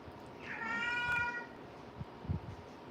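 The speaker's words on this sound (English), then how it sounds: "All right, what are you meowing about?" A cat gives a single drawn-out meow close by, rising then fading over about a second, followed by a few soft thumps and quiet room noise.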